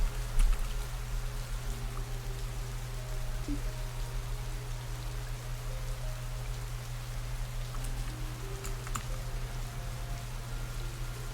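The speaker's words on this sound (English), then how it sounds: "noticing it was still raining" Steady rain patters continuously on a surface, with a low constant hum underneath and occasional sharper drips.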